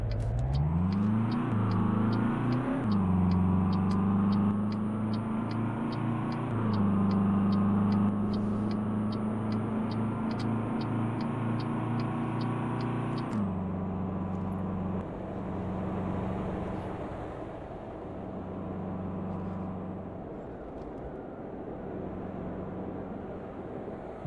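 A Mercedes Sprinter van in a driving game drones steadily on the road, its engine climbing through gear changes, then settling into a lower, even hum; no talking.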